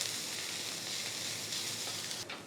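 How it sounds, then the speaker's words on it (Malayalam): Onion, ginger and garlic sautéing in a pan for a sadya masala curry, making a soft, even, continuous sizzle with a faint scrape near the end; no voices. "ഇനി ഇതും കൂടെ ചേർത്ത് നല്ലതായിട്ട് വഴറ്റാം."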